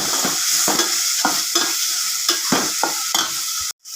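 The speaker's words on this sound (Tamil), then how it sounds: "இது நல்லா ஃப்ரை ஆகட்டும்" Onions, green chilies and tomatoes fry in a pan for a squid curry, with a spoon stirring in a steady rhythm of about one scrape every half second over a continuous loud sizzle, ending abruptly.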